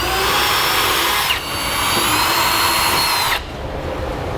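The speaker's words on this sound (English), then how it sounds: "Then I'll drill these other 2 inner holes out the same way." Power drill boring holes through a steel truck frame on a 2002 Dodge Ram pickup during a fifth wheel hitch install, a loud steady whine that drops in pitch partway through and then winds down near the end.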